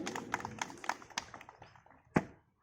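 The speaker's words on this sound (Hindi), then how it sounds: "जोरदार तालियों से स्वागत करें" Scattered hand claps from a crowd at an Uttar Pradesh police PAC passing-out parade greet the second parade commander. The claps are irregular and moderately distant, thinning out and ending with one sharp louder clap.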